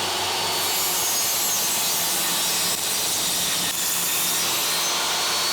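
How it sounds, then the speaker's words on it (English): Wooden boards cut with a miter saw and a table saw in a workshop, a loud, continuous whining roar of the blade biting through wood, steady for the whole stretch with no voices. "I cut them to smaller pieces with my miter saw, and then I squared up the edges with my table saw"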